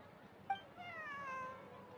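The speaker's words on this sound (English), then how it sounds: "I believe this cat belongs to me." A cat in the video game Genshin Impact lets out a single drawn-out meow at close range, preceded by a short sharp chirp, over a low background hum.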